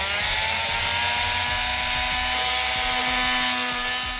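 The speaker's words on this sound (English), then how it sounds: "Now I'm going to just use my multi-tool to cut it out." Multi-tool cutting out a metal piece for a room divider repair, a loud steady high-pitched buzzing whine held throughout with no pauses and no talk.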